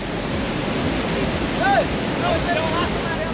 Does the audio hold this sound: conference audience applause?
no